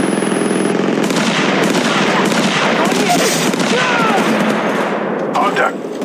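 Dense, sustained automatic gunfire from the mobile battle royale Apex Legends Mobile, rapid overlapping shots rattling almost continuously at close range with game effects and clatter mixed in before a brief drop near the end.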